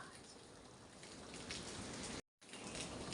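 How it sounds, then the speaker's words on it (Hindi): Heavy rain falling in a mountain village in Uttarakhand, a dense, steady hiss of drops on surfaces that continues without pause apart from one brief dropout. "बहुत बारिश है और मौसम बड़ी ले बढ़िया मौसम है।"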